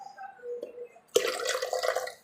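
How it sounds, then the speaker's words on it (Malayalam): Water is poured into a mixer jar in a home kitchen, a short splashing trickle that starts abruptly after a quiet moment and continues briefly, close and moderately loud. "ഇനി നമുക്ക് കുറച്ച് വെള്ളം കൂടെ ഇട്ടിട്ട് നോക്കട്ടെ"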